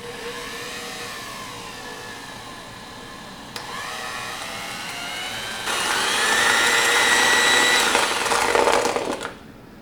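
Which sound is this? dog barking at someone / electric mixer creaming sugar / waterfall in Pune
electric mixer creaming sugar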